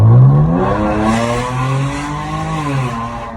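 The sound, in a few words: V6 engine slow rev with Mopar air intake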